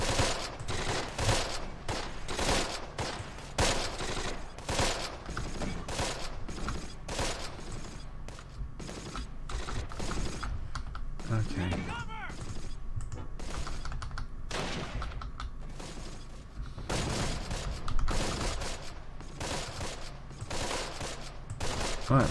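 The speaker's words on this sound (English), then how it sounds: "we've got plenty of covering fire on that building" Dense gunfire in the video game Close Combat, rapid bursts and overlapping shots crackling steadily throughout with scattered mechanical clicks.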